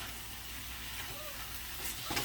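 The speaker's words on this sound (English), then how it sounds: "I'm going to keep chopping that in there" Ground bison sizzles steadily in a hot pan with minced garlic, with a spatula breaking it up, and the hiss stays even and fairly loud throughout.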